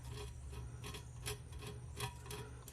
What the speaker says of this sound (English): Just scrape this glitter off.